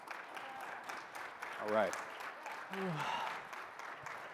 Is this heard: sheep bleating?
no